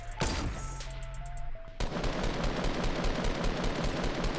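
Rapid bursts of automatic gunfire from a Fortnite match crackle loudly and continuously, with dense repeated shots after an opening stretch of game sounds.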